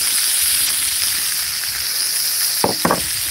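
Bacon sizzles and fries steadily on an outdoor griddle, a constant bright hiss, with two short scraping clacks near the end.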